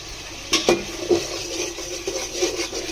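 Spices and chili powder being stir-fried in a pot for a chicken and vegetable khichuri: a few close metallic scrapes and clinks of a spoon against the pot over a soft, steady background hiss.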